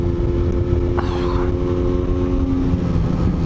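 Rebuilt Yamaha RD125LC two-stroke motorcycle riding along, its engine droning steadily and loudly throughout with a strong low hum and wind rush, plus a brief higher rasp about a second in.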